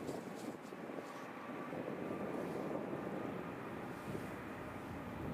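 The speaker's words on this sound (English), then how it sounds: "Oh, it's our Dreamliner. Dreamliner alert." A Qatar Airways Boeing 787-8 Dreamliner on final approach to Edinburgh airport makes a soft, distant jet roar that swells slightly and fades, mixed with light wind buffeting on the microphone. No one speaks.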